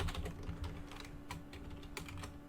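Keys clatter on a computer keyboard in quick, uneven bursts of clicks, close and fairly quiet over a steady low hum, with no voices.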